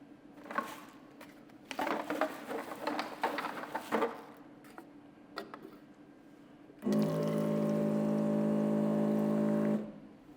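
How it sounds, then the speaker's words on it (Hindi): A water bottle filling machine runs with a steady loud hum for about three seconds near the end, preceded by scattered clicks, clatter and handling noises. "ये मैंने आपको ग्रीन बटन दबाया, पुश, उतना ही पानी भरेगा"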